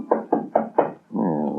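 Four sharp, evenly spaced knocks on a back door in an old-time radio drama, loud and close, followed at once by a sustained low hum.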